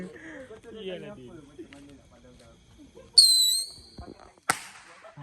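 Firecrackers are set off by a group of classmates: a shrill whistling tone rises, then a single sharp, short bang follows, while young people chatter and laugh nearby.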